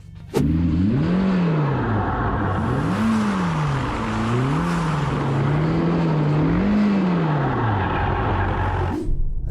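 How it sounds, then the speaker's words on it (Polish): A Ferrari Roma spins donuts with stability control switched off. Its engine note swings up and down in repeated rising and falling revs, loud and close, over tire and wind noise, with no talking. "możecie całkowicie wyłączyć stabilizację, co oznacza bączki. Mam ochotę na bączki."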